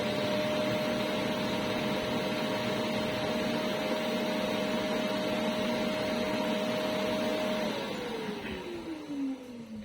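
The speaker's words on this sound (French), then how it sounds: "vous avez pu entendre l'autovidage" Dreame L10s Ultra robot vacuum station self-emptying its dustbin, a steady loud whirring suction roar with a sustained tone that glides downward as the motor winds down near the end.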